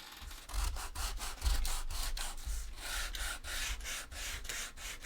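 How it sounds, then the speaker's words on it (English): A cosplay armor piece for a Sisters of Battle costume is sanded by hand in steady back-and-forth strokes, a close, rhythmic scratchy rasping that continues without pause and with no talking. "Probably give it a quick sand."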